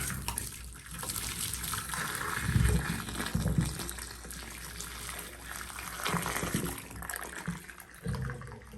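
Hot water pours and gushes down a clogged drain, a steady rushing, gurgling flow of moderate loudness with speech faintly present in places.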